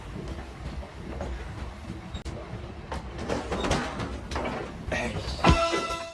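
A train runs with a low, continuous rumble and clatter, with occasional knocks and a sharp metallic squeal near the end, and faint voices underneath.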